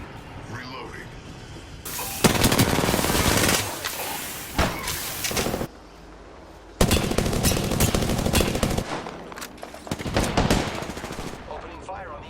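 Bursts of loud, rapid automatic gunfire in Apex Legends, several sustained volleys separated by short pauses, with a voice speaking in between.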